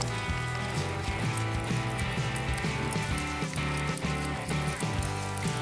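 Air-conditioner cleaning spray hissing onto the cooling fins of a Yamaha Tricker engine, a steady close fizzing spray with crackling foam bubbling throughout.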